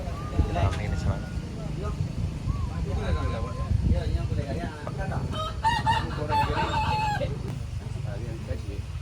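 Chickens crowing and clucking along a roadside in a busy village area, the calls rising through steady traffic rumble and murmuring voices, with a louder crow late in the clip.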